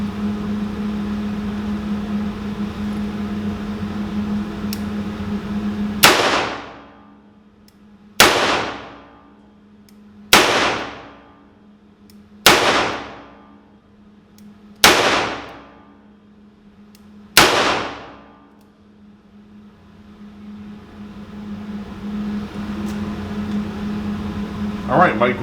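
Six loud, sharp revolver shots fired double action from a Ruger GP100 .357 Magnum, spaced about two seconds apart, each a crisp crack with a quick decaying tail, over a steady low background hum.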